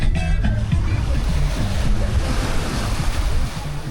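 Ocean waves washing onto the beach at Playa Mamitas in Playa del Carmen, a steady roaring surf close by with heavy wind buffeting the microphone.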